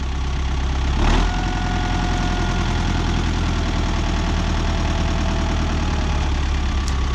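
A Renault tractor engine runs loud and steady at close range while its wheels spin in a yard, with a low, knocking diesel drone and a brief surge of revs near the start.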